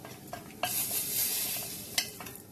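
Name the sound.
ground spices sizzling and stirred in frying pan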